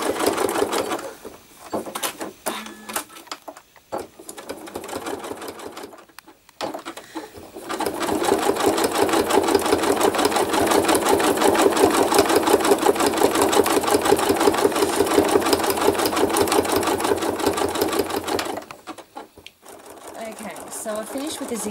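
A sewing machine runs a steady straight stitch through thread art, filling in a sky area, its rapid, even needle chatter loud and close for a long stretch, with brief pauses and some talking before and after the run.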